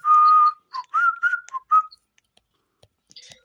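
A person whistles a few short notes, first a held tone and then a quick choppy run of pitches, close and clear, followed by near silence with faint clicks, during a session of the Piggy video game.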